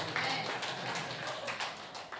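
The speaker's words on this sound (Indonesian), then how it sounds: "Tepuk tangan dong." A brief burst of scattered hand clapping from a small audience at a seniors' prayer fellowship gathering, a few uneven claps overlapping at moderate volume.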